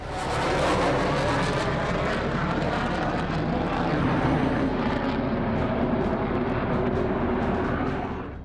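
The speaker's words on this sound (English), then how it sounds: "Two planes took off from the runway." A powerful aircraft engine roars continuously as a plane accelerates down the runway for takeoff, a broad, loud rumble that swells and then slowly fades.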